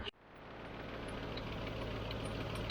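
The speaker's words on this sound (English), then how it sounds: "Fucking exhaust manifold's blowing over there." A 1993 car engine idles steadily with a blowing exhaust manifold, giving a constant close broadband rumble and hiss that holds without a break after a brief start, with no talk.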